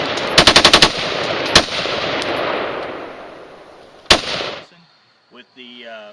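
A rapid burst of suppressed gunfire from a gun fitted with a Maglite suppressor, followed by a few spaced single shots, each loud and sharp over a steady noisy background, then a voice speaks briefly at the end.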